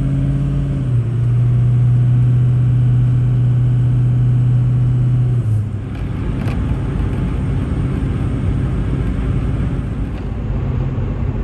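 A pickup truck towing a loaded, chained-down trailer merges onto I-71 South, its engine humming steadily with a sustained tone before settling into continuous road and tire roar, loud and close throughout.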